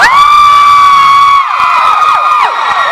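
A concert crowd of fans at a sound check party in Toronto cheers loudly, with piercing, sustained high-pitched screams ringing out close and loud and then breaking into overlapping shrieks.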